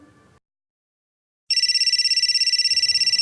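A telephone rings in a comedy sketch about phone orders: after a brief low sound and a second of silence, a bright electronic ringtone starts and pulses rapidly and steadily, loud and close.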